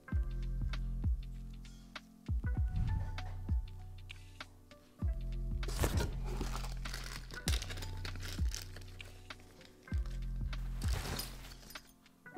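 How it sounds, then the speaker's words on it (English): Packaging of a Sig Romeo-X Compact red dot sight being handled and opened up close, repeated bursts of crinkling and rustling separated by soft thumps and quieter pauses. "let's unbox this thing"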